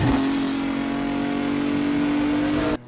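A car engine in Need for Speed Undercover on PS2 revs at a steady, high pitch in a sustained roaring drone, loud and close, cutting off abruptly at the end.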